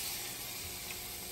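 A sausage roll fries in a pan over really high heat, giving a steady, close broadband sizzle and hiss that holds even throughout with no voices over it.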